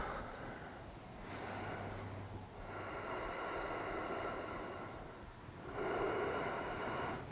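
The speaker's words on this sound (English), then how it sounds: "And we breathe. Two more breaths." Deep breathing during a gentle vinyasa yoga session: slow, audible inhales and exhales in a long, even rhythm, close and soft, with no talk.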